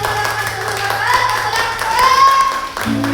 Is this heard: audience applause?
yes